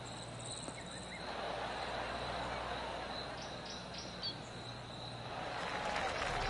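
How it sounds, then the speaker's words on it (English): Scattered golf claps from a distant gallery around the course in the PGA 2K25 video game, a soft, continuous patter of applause under outdoor ambience with insect-like chirps, swelling slightly near the end. "Oh, I can hear the golf claps around the course."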